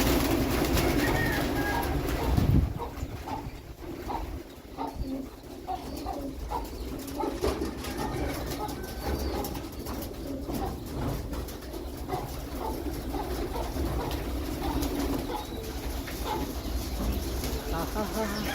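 Pigeons coo softly in repeated low murmurs, close by, over a steady background hum, with faint chatter and a short bump early on.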